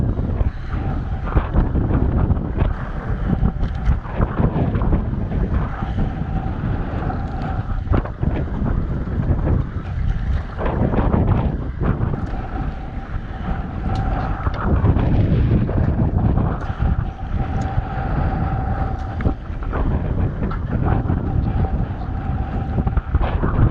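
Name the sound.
wind blowing at sea on a fishing boat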